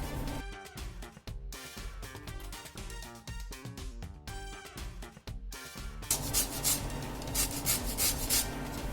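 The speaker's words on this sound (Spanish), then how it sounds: "Ahora vamos a poner la ralladura de media lima." Lime zest is grated from half a lime for crema catalana: music plays first, then a close, steady rasping scrape of peel against a grater runs over the last few seconds.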